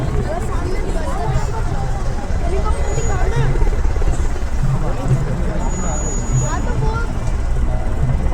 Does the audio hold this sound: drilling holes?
no